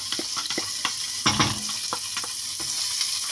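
Chopped onion sizzles steadily in a hot pan for a broccoli stew, with a constant frying hiss and several stirring scrapes and clinks breaking through.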